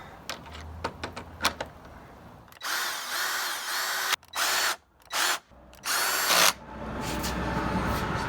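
A power driver runs in several short, loud bursts, tightening screws on Spyder headlights being installed on a VW Golf GTI MK7, with small clicks and handling noises between the bursts.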